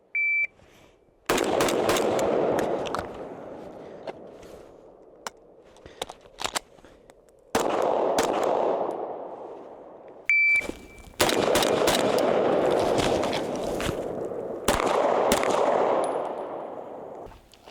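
Pistol shots fired with dummy rounds mixed in during a malfunction drill, coming as bursts of sharp, loud reports with pauses and scattered single shots between strings over several seconds.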